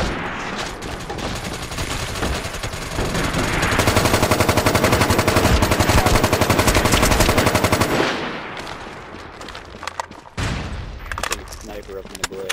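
Rapid automatic gunfire in the online shooter MAG, dense sustained bursts building to a loud continuous stretch of several seconds, then breaking into scattered separate shots and impacts.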